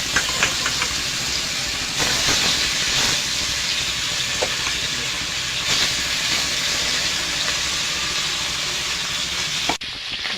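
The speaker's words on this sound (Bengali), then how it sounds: "মাছগুলো ভাজা হয়ে গেছে," Fish pieces fry in hot oil in a wok, giving a steady, loud hiss and sizzle with occasional spattering pops, close up and without talk, ending in a sharp clatter.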